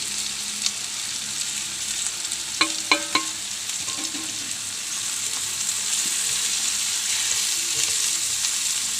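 Spices and green chillies fry in a pan for clam roast, a steady close sizzle broken by a few quick metallic clinks of stirring early on, with no voices.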